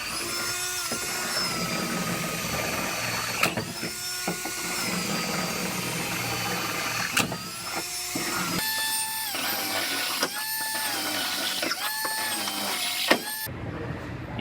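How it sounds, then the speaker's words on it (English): A power drill bores out spot welds on a car frame rail in short repeated bursts, each whine starting and stopping with brief pauses between, close and moderately loud. "there's spot welds that go through into the frame rail right through here. I got to drill all those out"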